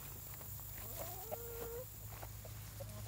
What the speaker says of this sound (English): This is what chickens in panic look like.